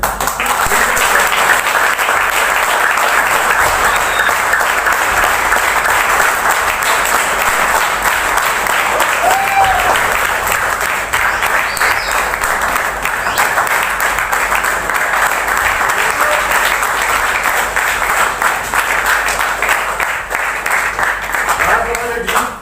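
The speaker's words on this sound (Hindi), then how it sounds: "उनके लिए बहुत देर तक ताली बजनी चाहिए" Applause from an audience at a team event for a newly named manager, a loud sustained clapping that runs unbroken for over twenty seconds.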